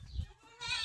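A village goat gives a short, nasal bleat at close range, rising near the end of a brief clip, with faint rustling before it and no talking.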